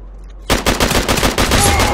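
After a brief quiet lead-in, a loud burst of rapid automatic gunfire erupts in Uncharted 3 co-op and keeps going in quick, tightly spaced shots.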